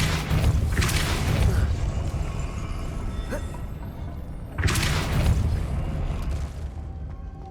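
The Depulso force-push spell from Hogwarts Legacy is cast twice, each time a heavy booming burst that decays into a rumbling wash, loud and close, with no speech over it.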